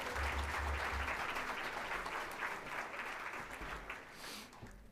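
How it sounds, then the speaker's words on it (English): Audience at a community breakfast event applauding a speaker, a dense wash of clapping that holds steady then thins out and fades toward the end, fairly distant and soft. "Another round of applause for Dr."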